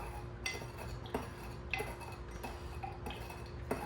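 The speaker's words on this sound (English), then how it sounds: "I'm gonna take my screwdriver muddler." A screwdriver muddler pressing sugar in a glass for an Old Fashioned, soft irregular clinks and taps of metal against glass, quiet and close, with no talk.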